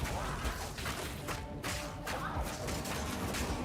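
Volatile plants exploding in Path of Exile 2 gameplay, a dense run of loud thuds and crashing bursts over busy game noise, with speech faintly mixed in.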